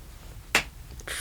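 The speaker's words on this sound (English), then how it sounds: "My editor just requested that I clap so he can sync the audio." A single sharp hand clap, close and fairly loud, standing alone against a quiet room at a podcast recording.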